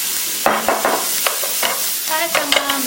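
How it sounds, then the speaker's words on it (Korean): Tomato added to peppers stir-frying in a pan for a Spanish omelette, giving a steady moderate sizzle broken by several scraping stirs of a utensil, close by, with no talking. "이렇게 해서 피망까지 볶아졌으면 마무리로 토마토 넣어줍니다."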